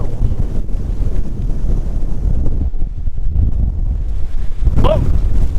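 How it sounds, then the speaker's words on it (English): Strong wind blowing the day after Hurricane Fiona, a steady broadband roar buffeting the microphone throughout, with a brief higher whine near the end. "Well, the wind's starting to pick up again."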